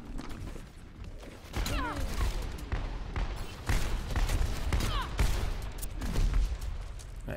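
Rapid gunfire and impacts in a team shooter video game, with bursts of shots fired at the player and rattling hits coming in quick clusters over several seconds, loud and dense throughout.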